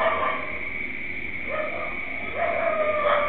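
Dogs yapping and whimpering on CCTV footage near a house, a steady run of high, thin barks and yips at middle distance with no pauses, heard alone.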